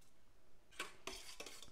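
Batter for a Napoleon cake is stirred in a bowl, a few quiet scraping, clinking strokes of a utensil against the dish, sounding close and alone.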